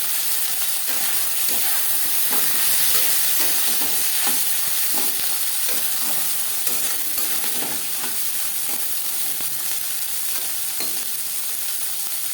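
Chickpeas, soaked for hours, going into banana flower and fried coconut in a pan on a gas flame, giving a steady loud sizzle and hiss with repeated stirring scrapes throughout.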